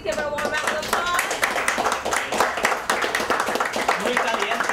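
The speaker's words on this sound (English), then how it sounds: "So please give her a warm round of applause." Warm clapping from an art show audience, crisp individual hand claps layered into lively applause that holds steady, with some voices mixed in.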